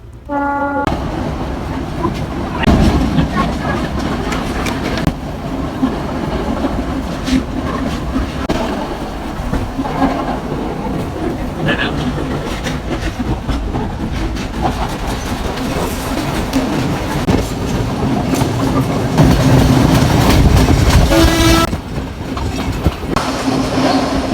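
A train rolls steadily along the rails between Kandy and Matale, Sri Lanka, a continuous rumbling clatter with rhythmic clicks, and a brief horn-like tone sounds near the end.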